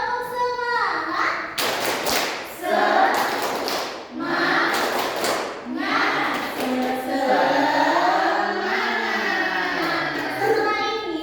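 A class of fourth-grade children does a rhythmic spirit clap in a classroom, chanting and clapping in short patterned bursts, answering a teacher's call with bright group voices.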